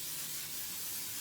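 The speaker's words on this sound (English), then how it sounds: "Go ahead and spray the pan" Cooking spray hissing into a pan during meal prep, a steady close airy spray that holds for the whole short moment with no talk.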